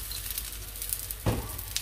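Food fries in oil in a pan, a soft, continuous crackling sizzle heard close up, with a brief louder pop partway through.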